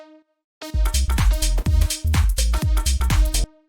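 Dry saw-wave synth lead in a sparse tech house arrangement, bright buzzy notes stabbing over a heavy pounding kick and beat in short rhythmic bursts, then stopping abruptly.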